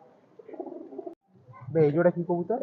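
High-flyer Benaras pigeons with red necks coo in short warbling bursts, a softer run followed by louder, closer cooing after a brief pause.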